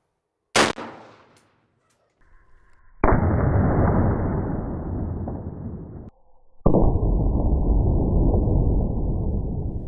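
A 5.56 rifle fires once at an empty beer can outdoors, a sharp, loud crack at close range, followed by a brief pause and then a long, steady wash of broadband noise that continues to the end.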